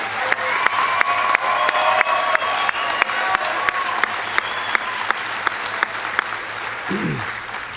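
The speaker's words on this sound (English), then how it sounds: "I want to give it a round of applause to the director" A commencement audience applauds with dense, steady clapping throughout, loud and close, tapering slightly toward the end.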